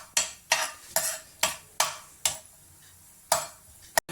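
A spoon or spatula stirs cashews in ghee in a pan, giving a rhythmic series of about eight sharp scraping strokes, roughly two per second, with a faint sizzle beneath.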